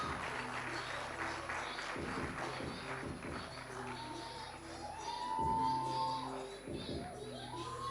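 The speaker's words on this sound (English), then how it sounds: "a big clap for them" Sustained, even clapping fills a graduation ceremony hall as the graduates' parents walk up, a steady crowd applause with some voices mixed in throughout.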